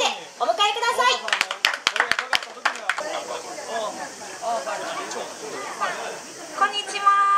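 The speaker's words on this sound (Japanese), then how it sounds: "皆さん大きな拍手でお迎えください。" An audience at a summer festival stage gives a short burst of scattered, sharp claps to welcome a singer-songwriter and pianist duo, and then people start talking.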